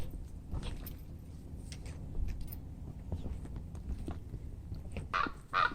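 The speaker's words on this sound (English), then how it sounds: "Some waterfowl fussed from just off the trail, not comfy with the intrusion into his world." Waterfowl fussing just off a wilderness hiking trail near Waterrock Knob, giving a few honking calls with louder bursts near the end over quiet rustling outdoor background.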